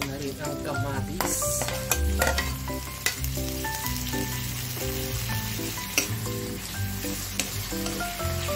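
Clams and tomatoes sauté in a frying pan, giving a loud, steady sizzle throughout with occasional stirring clinks and scrapes close by.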